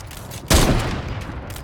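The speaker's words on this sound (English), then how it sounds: "Artillery." Artillery in a shooter video game lands as a single heavy boom about half a second in, then rumbles and fades into distant crackling.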